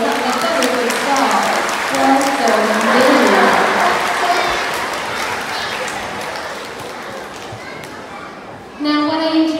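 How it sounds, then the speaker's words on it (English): An audience at a sea lion display claps, with a crowd applauding loudly and steadily that then tapers off, children's voices and chatter mixed in, and a voice cutting in near the end. "do you want a big round of applause?"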